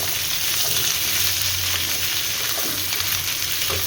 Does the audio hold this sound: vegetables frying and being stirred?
yes